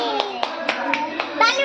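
Children clap their hands in a quick, even rhythm, about four claps per second, close and clear, while young voices chant along during a recitation of children's poetry.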